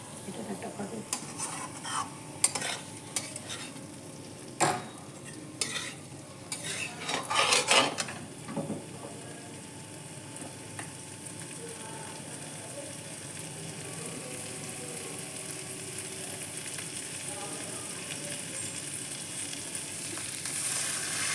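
Matar paneer in a pan being stirred with a utensil scraping and clinking against the metal, sharp knocks early on, then a quieter steady sizzle as warm water is added.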